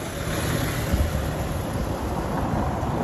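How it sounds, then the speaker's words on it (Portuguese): Strong afternoon wind in Itarema, a beach town in Ceará, roars steadily across the microphone as a dense, unbroken rush with a low rumble and no voices. "o vento aqui, olha como é que é, olha."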